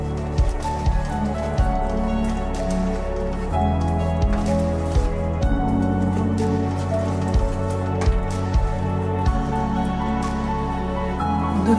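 Paneer butter masala being stirred and mixed in a pan with dry chilies: a steady sizzle with soft squishy scrapes and repeated spoon strokes in an even rhythm, close and moderately loud throughout.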